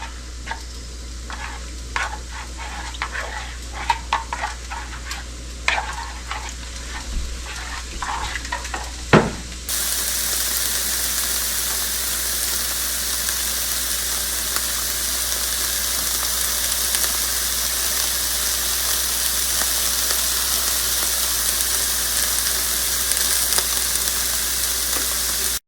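Vegetables cooking in a pan for chicken curry, with soft stirring clicks and taps at first, then a loud, steady frying hiss that fills the remaining two-thirds.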